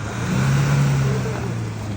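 A jeep stuck in snow in the Himachal mountains, its engine revving in a sustained, steady drone that rises slightly and then holds, close and loud, with no talk.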